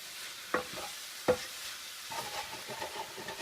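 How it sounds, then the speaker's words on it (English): Cajun seasoning stirred into shrimp pasta in a pan on the stove: two sharp utensil knocks against the pan, then soft continuous scraping and a faint sizzle, with no voices. "Mix all this real good."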